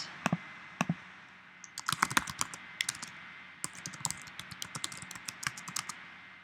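Keys clatter on a computer keyboard while mileage for a small business is logged by hand, a few isolated taps followed by quick irregular bursts of typing, close and clear with no talking.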